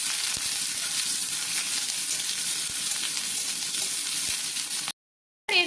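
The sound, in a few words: chopped onions frying in oil in a wok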